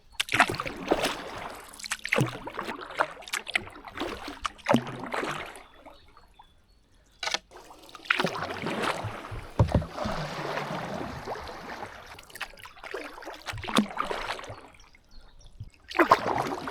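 A kayak paddles along the Vilnia river, with intermittent splashes and water trickling around the hull in uneven strokes. Brief quiet pauses fall between the paddling runs.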